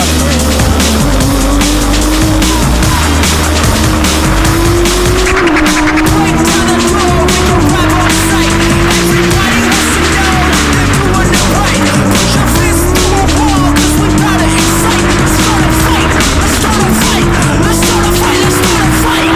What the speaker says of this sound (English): Green flag, James French already 3 wide, 4 wide mid-pack there.